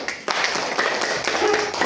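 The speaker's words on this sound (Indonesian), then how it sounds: "Tepuk tangan dulu untuk kelompok 1." Brief burst of clapping from a class of students, dense and steady for a couple of seconds in a busy classroom.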